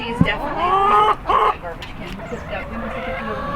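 Hens on a farm cluck close by in short, drawn-out calls, a couple of louder squawking bursts early on, then quieter clucks against light background noise.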